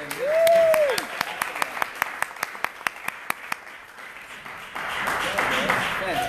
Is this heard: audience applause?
yes